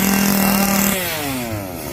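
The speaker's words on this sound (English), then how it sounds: "Yeah, chainsaw wielding lady here." A chainsaw revving and idling at a Texas Chainsaw haunted attraction during a theme-park fright fest, loud and close, the engine dropping in pitch after a second, no talk.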